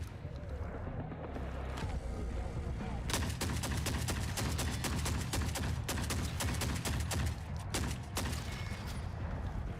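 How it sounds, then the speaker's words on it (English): Repeated shotgun blasts ring out in a combat scene in The Forever Winter video game, sharp loud reports in quick bursts over a dense rumbling battle backdrop, with occasional voices. "Shotgun time."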